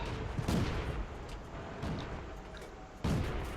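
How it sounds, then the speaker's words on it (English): Heavy, booming cannon shots from a tier 3 T 127 premium light tank in a tank video game, with a few deep blasts spaced over a few seconds against steady rumbling battle noise. "I am firing blindly, hoping to hit the vehicle."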